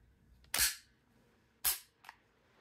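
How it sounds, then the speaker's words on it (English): Dry firing a Cybergun Desert Eagle airsoft pistol gives two sharp metallic clicks about a second apart, followed by a fainter, softer click, close up and otherwise quiet. "I can dry fire to let you hear the noise."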